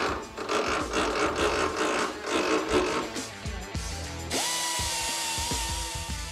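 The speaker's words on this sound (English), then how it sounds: "I need to make sure I cut the weld, not the barrel." A power tool grinds through a weld on a World War era gun barrel during restoration, harsh and continuous, then shifts to a steadier high whine.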